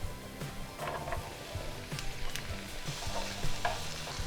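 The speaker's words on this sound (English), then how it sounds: "we're gonna cook it for a minute or so just to toast the seasoning and bring the flavors out" Cumin, coriander and cinnamon toasting in a pan give a steady, close sizzle broken by repeated scraping stirs, a moderate rhythmic frying sound with no talking.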